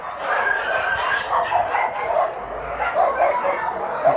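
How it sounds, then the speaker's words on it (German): About 450 rescued dogs barking and yelping together inside a shelter building in China, a dense, continuous din, loud and reverberant. "Auch in dem Gebäude hier links sind überall Hunde drin."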